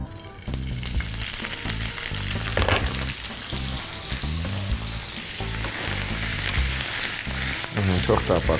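Food sizzles and fries steadily in a pan beside green beans and garlic, a dense crackling hiss that runs throughout with busy clattering and stirring, no voices.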